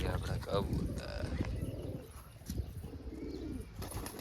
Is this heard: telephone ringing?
no